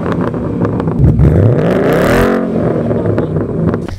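Ford Mustang GT with stock headers and an aftermarket catback exhaust revs loudly up and back down, a sweeping engine note close by that dominates the whole stretch.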